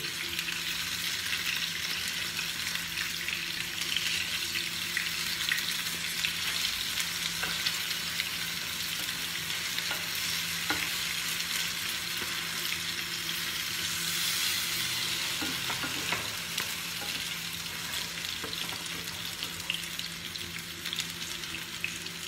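Pabda fish frying in a pan with a steady, dense sizzle of hot oil that holds evenly throughout, close and moderately loud with no voices.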